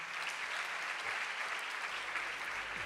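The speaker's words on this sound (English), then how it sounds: "Please applaud for them." An audience at a school quiz finals for National Science Day at Prasanthi Nilayam applauds the placed teams with a steady, even wash of clapping, faint and distant throughout.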